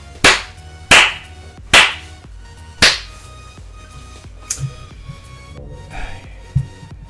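A few sharp, loud claps ring out at first, spaced apart, followed by softer scattered taps and knocks with a slight echo.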